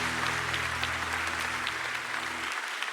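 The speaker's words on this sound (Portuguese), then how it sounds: "Você pode aplaudir a Jesus." Worshippers in a church service applaud in a full, continuous round over a low sustained musical hum, then the sound cuts off abruptly.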